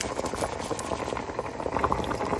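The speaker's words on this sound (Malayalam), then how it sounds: "ഇത് നന്നായി തിളച്ചു" Jackfruit seed curry with mango bubbles steadily in a pot after fried mustard seeds are stirred in, a dense continuous boiling and popping texture at moderate level with no talk.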